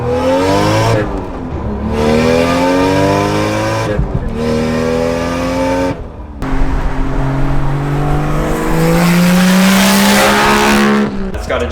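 Toyota Chaser JZX100 with an open-dump 44mm wastegate, J-pipe delete and front-mount intercooler, driven hard: a loud, close engine that revs up in rising sweeps with short gaps between shifts, then holds a steady high drone, with no talk.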